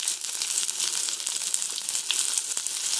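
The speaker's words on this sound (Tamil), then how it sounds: "இப்போ இது வதக்கலாம்." Small onions sizzle and fry with rock salt in a hot pan, a steady crackling hiss that holds unbroken throughout with occasional sharper pops, close and fairly loud, with no talking.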